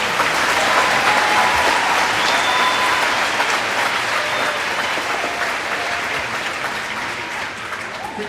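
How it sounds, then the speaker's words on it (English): A graduation crowd at Oshkosh North High School claps in sustained, full applause that fills the hall and only eases slightly toward the end, with faint crowd noise underneath. "let's give them a round of applause"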